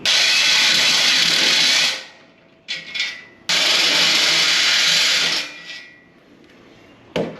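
A power drill bores holes through a trailer rail to mount a 2.5-gallon gas tank rack, running loud and close in two long bursts separated by a short pause and brief stops.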